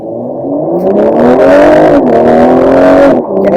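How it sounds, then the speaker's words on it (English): A BMW M340i xDrive with M Sport exhaust revs hard, the engine note climbing in pitch, dipping briefly, then surging again, loud and close with no talking. "This is what a BMW M Sport exhaust sounds like."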